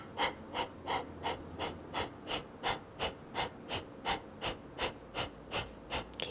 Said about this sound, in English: So let's take another long breath in. And a long exhale.